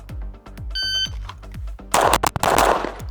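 Ported Limcat Wildcat pistol fired at a target: a loud, sharp burst of gunshots near the end, after a stretch of rhythmic low mechanical thumps, with a high electronic beep partway through.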